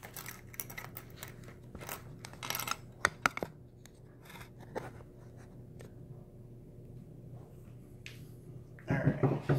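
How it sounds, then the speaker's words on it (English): A cardboard shipping box is cut open with a blade, with scattered scraping, slicing and tearing strokes, a few sharp clicks and rustles, quiet and close with pauses between. "actually cut open this box and see what it is that we actually get"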